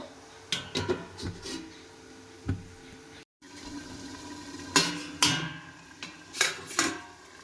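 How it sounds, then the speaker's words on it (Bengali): A metal lid set onto a pot of simmering potato and mushroom curry, giving several separate clanks and clinks in a quiet kitchen. "এবার ঢাকা দিয়ে দেব।"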